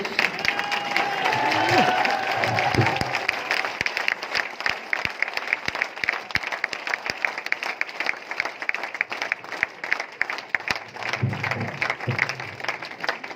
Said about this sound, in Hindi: एक बार हम चाहेंगे रूपराम भाई के लिए आप लोग खड़े होकर ताली बजा दिए सब लोग